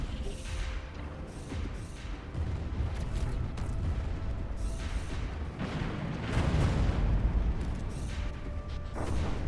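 Artillery and plasma cannon fire in a Stellaris fleet battle, a rumbling wash of booms and crackling impacts that swells toward the end, fairly distant and continuous, with no talk.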